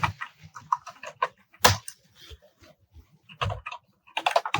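A Python comment is typed on a computer keyboard in quick, uneven bursts of close key clicks, with a few louder strikes. Brief pauses fall between bursts, and no one speaks.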